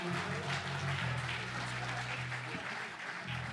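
Audience applause for a group, a steady burst of clapping under a sustained low musical drone, moderately quiet and continuous throughout.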